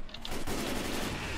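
Gunfire in Left 4 Dead 2 breaks out as a rapid burst of shots, loud and close, in a short dense cluster.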